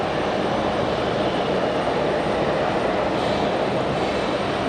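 F-15 fighter jets at Raleigh-Durham International Airport give off a continuous, loud broadband jet roar that stays level from start to finish, with no voices over it.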